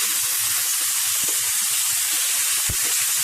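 Flat beans with potato, coriander and spices sautéing in a pan, giving a constant soft sizzling hiss with a couple of faint knocks from stirring.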